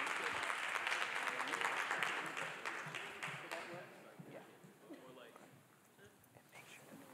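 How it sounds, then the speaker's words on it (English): An audience at a panel event applauds loudly at first, with overlapping claps that thin out and fade to scattered sparse clapping over several seconds while voices murmur underneath. "Give her a round of applause."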